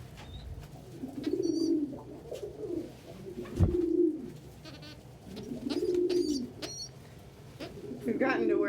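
Several pet doves or pigeons coo close by at breakfast, soft rolling low coos repeating every few seconds, with brief higher chirps and light rustling.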